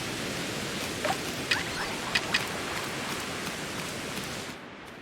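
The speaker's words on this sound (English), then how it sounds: "About to lose the rainstorm." Rainstorm ambience in the Pokémon Legends Arceus video game, a steady hiss of falling rain with a few brief sparkly chimes, fading out at the very end.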